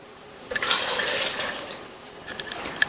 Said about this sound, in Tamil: நம்ம பைனாப்பிள் எடுத்த கப்லயே 1 கப் அளவுக்கு நல்ல சில்லுன்னு உள்ள தண்ணி சேர்க்கிறேன்